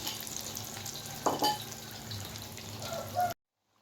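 Tempe patties fry in hot oil with a steady, dense sizzle, close and fairly loud, with a few clinks and stirring sounds, then the noise cuts off abruptly.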